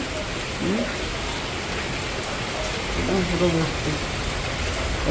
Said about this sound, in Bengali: প্রচুর বৃষ্টি হয়েছে